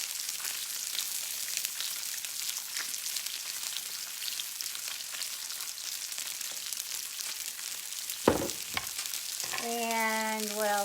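Balsamic vinegar hits a hot pan for lemon balsamic glazed salmon, giving a soft, steady sizzle and crackle throughout, with a couple of sharp clinks and a brief louder burst near the end.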